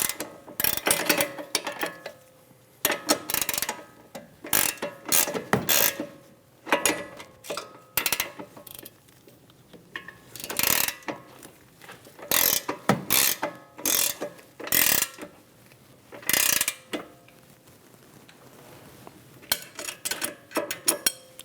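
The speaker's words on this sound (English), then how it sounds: "We're going to snug this nut down while we hold the stud still." A wrench and 6mm Allen key snugging a ball joint nut on a 2011-2027 Dodge Durango front upper control arm, giving irregular metallic ratcheting clicks in quick clusters with short pauses, close up and with no talking.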